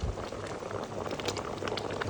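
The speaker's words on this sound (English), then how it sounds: "you can see how the boiling's changing" Gooseberry jam boils in a pan, a dense steady bubbling and popping heard up close and continuous, with no talking.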